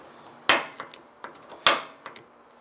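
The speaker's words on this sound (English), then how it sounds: "I'm always coming into those lines and taking a center punch." Steel center punch struck with a hammer against a metal workpiece before drilling: two sharp, loud metallic strikes about a second apart, each followed by lighter tapping knocks, close up with no talking.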